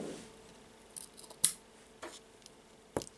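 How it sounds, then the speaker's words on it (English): Scissors snip through the knotted cords of a handmade rainbow friendship bracelet: a few sharp, quiet clicks spaced apart, with no talking. "now I will take the scissors and cut"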